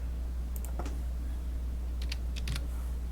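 Typing on a computer keyboard, with a few short bursts of light clicking keystrokes over a steady low electrical hum and no talking.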